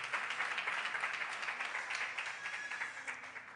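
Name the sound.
applause of gratitude in church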